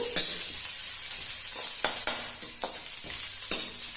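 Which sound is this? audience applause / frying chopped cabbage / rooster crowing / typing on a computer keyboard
frying chopped cabbage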